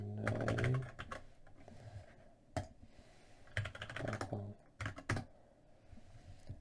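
Quiet clicks of typing on a computer keyboard during a Python login demo, arriving in short irregular bursts of keystrokes with small gaps between them.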